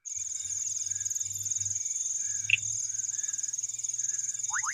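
Crickets in Western Kenya give a continuous high trill, while a Kivu Reed Frog adds a few sharp ticking calls, one isolated click and a quick pair near the end, over low background rumble.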